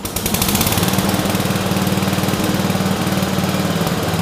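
A screw-drive off-road vehicle's engine runs loud and close with a steady, rapid chugging throb, resembling a lawn mower, with no talk over it.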